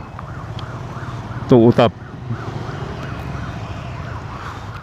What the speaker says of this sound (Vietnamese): Chợ hú còi báo động để đuổi những cái người mà